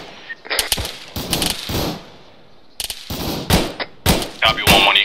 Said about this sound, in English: we're currently taking fire from unknown location